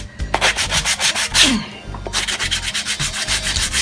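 Wood being hand-sanded with 100 grit sandpaper for a DIY coat rack, a rapid rhythmic rasping of back-and-forth strokes, close and loud, with a short pause partway through.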